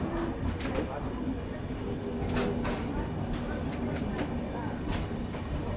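The Udaipur City Weekly Express rolls out of Kursela railway station, heard from inside as a steady low rumble with repeated rattling clunks and sharp metallic bangs, with faint voices underneath.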